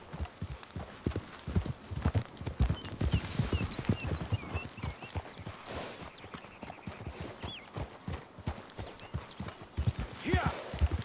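A horse gallops in Red Dead Redemption 2 with rapid, steady hoofbeats close by and a brief whinny. Talking is heard over the hooves.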